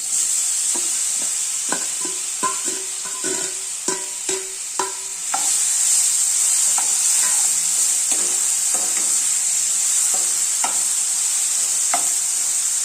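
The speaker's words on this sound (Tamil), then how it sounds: "இப்போ இந்த நெய்யில் இந்த வாழைப்பழத்தை வதக்கிக்கலாம்" Bananas sautéing in ghee in a pan for a banana leaf snack: a steady, bright sizzle with spoon clinks and stirring scrapes scattered through, no talking.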